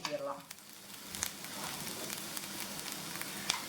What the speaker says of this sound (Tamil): இதில் புளியை ஊற்றிடலாம்.